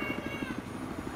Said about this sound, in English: Go for the chopper.